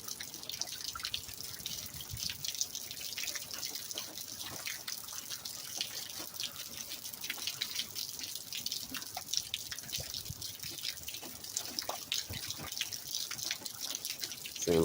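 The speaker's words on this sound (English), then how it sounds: "Getting rained on." Steady rain patters and drips throughout, a dense crackle of drops close by with no voices.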